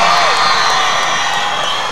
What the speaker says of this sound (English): The crowd is going absolutely mental around us.